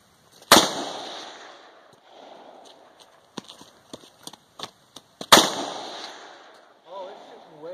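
AR-15 rifle fired outdoors on a dry hillside: two sharp, loud shots several seconds apart, each with a ringing tail, separated by scattered clicks and handling knocks, with a brief voice at the end.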